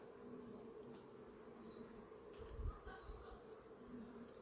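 Honeybees hum faintly and continuously around an opened hive during an inspection, a soft steady buzz with a few brief louder passes near the listener and a low thump partway through.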